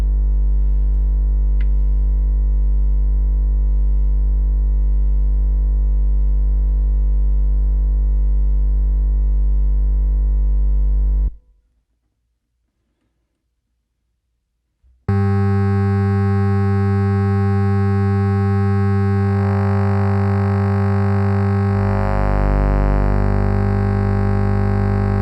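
A Neuzeit Warp additive and wavetable synthesizer holds a loud, steady, grungy drone with sustained harmonic tones. It cuts to silence for a few seconds, then returns brighter and denser.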